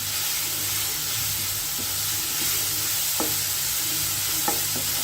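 Ingredients frying in a pan for a Havyaka-style summer dish keep up a continuous sizzle, while a spoon stirs them with soft, irregular scraping taps against the pan. No one speaks.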